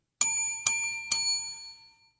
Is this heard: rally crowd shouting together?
no